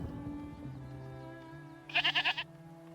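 Goats bleat in the village-building game Farthest Frontier, a short burst of rapid, pulsing bleats that rises clearly over a quiet, steady tonal game soundscape of low hums.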